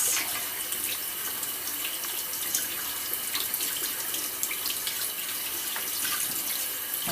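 Tap water runs steadily into a sink while a large batch of beans is rinsed for a Russian bean salad, a continuous close hiss without pause.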